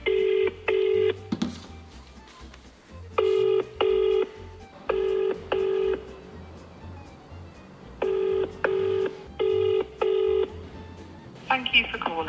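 A telephone call to an Alfa Romeo parts dealer: rhythmic bursts of touch-tone dialing beeps in repeated paired pulses, moderately loud and close, with an automated voice answering briefly at the end.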